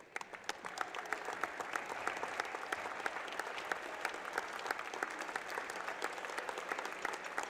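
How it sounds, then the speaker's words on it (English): A crowd at a high school basketball game between Lincoln Northwest and Beatrice applauds the game officials, with steady, lively clapping that sounds somewhat distant and echoes through the gym. "Please stand and show your appreciation and give a big round of applause to these outstanding officials."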